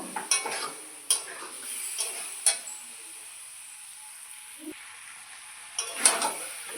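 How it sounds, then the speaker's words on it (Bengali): Spices with onion and ginger being stir-fried for a Bengali potato curry (aloo dum), a spatula scraping the pan in several short bursts over a faint sizzle, with quiet gaps between strokes. "ভালো করে আবারও ভেজে নিব মশলার কাঁচা গন্ধ যতক্ষণ না চলে যায় ভালো করে কষিয়ে নিব"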